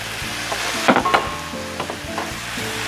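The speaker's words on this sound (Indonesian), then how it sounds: "Saya aduk-aduk lagi, ditumis-tumis. Saya masukkan udang yang sudah dimarinasi dan sudah digoreng." Shrimp stir-fried with mushroom stock in a pan, a steady close sizzle with a few sharp clanks of stirring early on and no talking.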